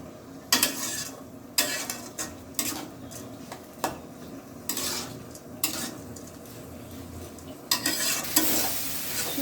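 Spices sizzle in hot oil in a pan while a utensil stirs and scrapes them in irregular bursts, close up, with a steady frying hiss underneath and no talk.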